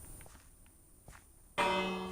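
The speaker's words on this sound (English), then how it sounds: "Just a bell." A village bell in Minecraft rings once, a bright, sustained metallic tone that starts abruptly after faint footsteps and hangs on as it slowly fades.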